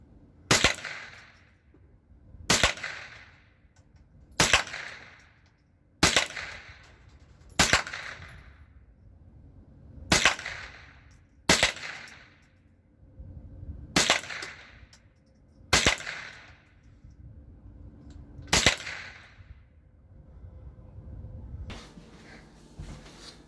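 Nine sharp rifle shots ring out at a shooting range, spaced roughly two seconds apart, each a loud crack with a short decaying tail, followed by quieter ambient noise at the end.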